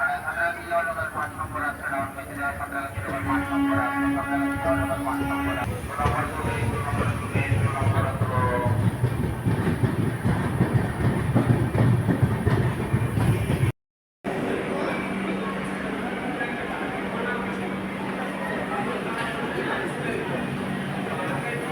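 The 12857 Tamralipta Express rumbles and clatters as it pulls out of Uluberia station, its steady mechanical noise building under ongoing talk and background chatter.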